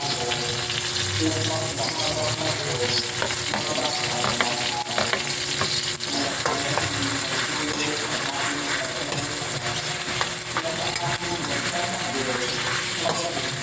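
Ground pork sizzles steadily in a hot pan while being stirred, with metallic scrapes and clinks of the utensil against the pan and a voice talking over it now and then.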